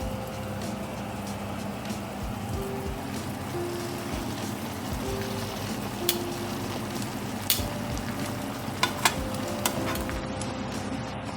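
Pasta being stirred into a seafood sauce in a pan gives a soft, continuous sizzle with occasional light clicks of a utensil against the pan, fairly quiet and close.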